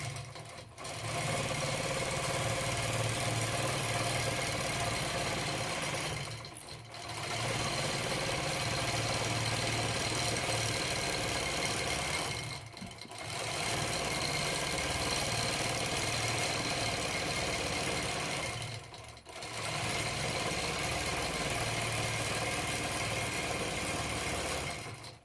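A computerized quilting machine stitches a table runner with a steady, fast mechanical whir, broken by three short pauses, and runs alone without talk.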